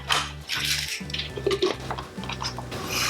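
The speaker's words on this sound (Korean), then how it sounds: "소스 재료는 파 한 줄기 대충 썰고요" A knife roughly slices through a single green onion stalk on a cutting board while making a tteokbokki sauce, giving several quick, close chops and light clinks over steady background music.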